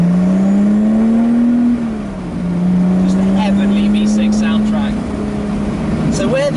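A sports car engine, heard from an open Zenos E10 S or Lotus Exige S V6, drones steadily and loud throughout, dipping briefly before climbing again as the throttle opens, with wind rush underneath.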